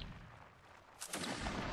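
Musket volleys crackle in a Napoleonic Wars battle in the game Mount and Blade, a distant muffled report followed by a louder rippling burst of several shots.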